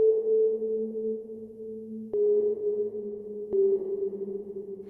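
Shimmer reverb tail from the Arturia Pigments 4 synth: a sustained tonal wash with steady low and mid drones, briefly broken by two sharp clicks partway through, then swelling again.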